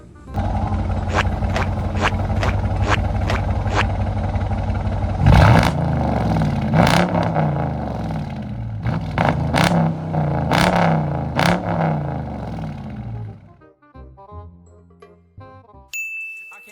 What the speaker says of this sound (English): I'm gonna give y'all some revs.